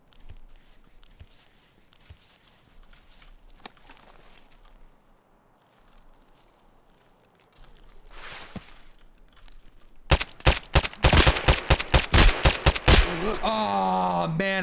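Rapid bursts of gunfire erupt in Escape from Tarkov, loud and close, following a quieter stretch of faint footsteps and movement, with a few single shots and a dense volley toward the end.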